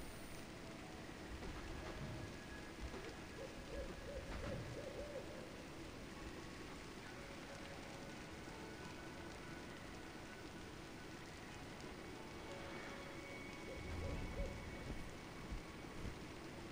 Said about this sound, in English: Rainy day in Citadel.